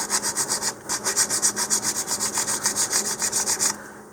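Quick, even back-and-forth sanding strokes on a plastic model rocket part, around twenty in a steady rhythm, scratching close up with no voices.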